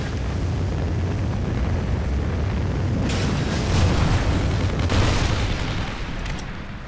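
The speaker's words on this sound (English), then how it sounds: "Friendly Trinity rocket inbound." Trinity rocket strike explosions from Call of Duty Ghosts, a rumbling continuous roar of blasts that swells in the middle and fades slightly at the end, loud and dense with no speech.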